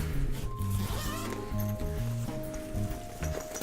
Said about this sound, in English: So here's the first zipper from the front.